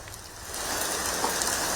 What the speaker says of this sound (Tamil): தலைநகர் சென்னையில கனமழை கொட்ட தொடங்கி இருக்கிறது